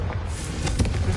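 A Confringo fire spell explodes in the Hogwarts video game: a brief, muffled burst of blasts over a low, rumbling game backdrop, with no voices.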